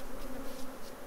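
Honeybees buzz around beehives at an apiary where royal jelly is produced, a steady close hum with a low droning tone and no voices.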